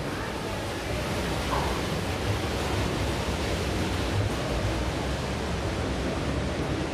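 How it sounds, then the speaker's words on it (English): Steady broadband rush of a waterfall at Hudson Yards in New York City, continuous and fairly loud outdoors without distinct breaks. "over there they got a nice waterfall."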